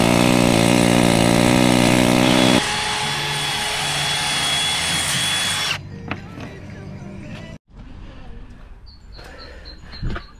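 Compressor-powered air tools working on a truck in a workshop, loud steady machine roar with harsh whine, then shifting to intermittent clanks, hisses and tool bursts as the noise drops away.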